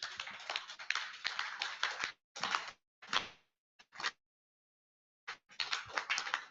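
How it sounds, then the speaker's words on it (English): An audience claps in a standing ovation, in bursts of dense, near applause broken by short pauses and brief silences. "Can we have a standing ovation and give a round of applause to Ambassador and his team?"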